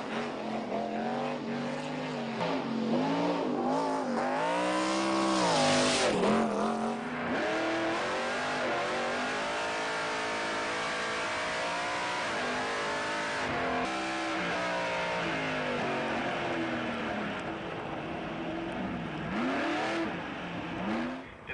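A 1999 Herzog Motorsports race truck charges up Pikes Peak, its engine revving hard and loud throughout with rising and falling pitch sweeps through gear changes, a brief tire squeal near the start.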